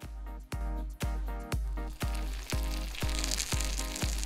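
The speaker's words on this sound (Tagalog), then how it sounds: "Sa unang prito, half cook lang dapat para hindi mawala ang forma." Pastil bihon made from rice noodles pressed into a mold hisses and sizzles in hot oil during a first half-cooking fry, with rhythmic sharp pops or taps recurring about every half second over a steady crackle.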